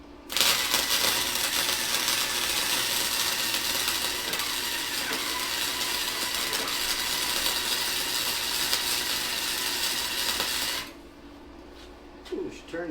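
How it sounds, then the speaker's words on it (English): A small Harbor Freight wire-feed welder on minimum heat, wire speed around 6, crackles and buzzes steadily for about ten seconds, then cuts off, leaving faint clinks and handling noises. "Let's go ahead and turn our little Harbor Freight welder on."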